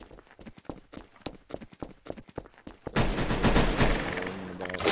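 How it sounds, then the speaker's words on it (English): Video game gunfire comes as a rapid, irregular string of sharp cracks, then gives way to a dense, loud, sustained burst of noise. "I just heard gunshots, and there's two dead bodies now"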